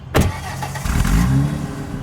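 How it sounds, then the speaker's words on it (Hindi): A car engine catching with a sharp starting burst, then a smooth mid-pitched run and rising hum as the car pulls away, close by and brief. "मैं अपनी गाड़ी में बैठा और हॉस्टल की तरफ निकल गया"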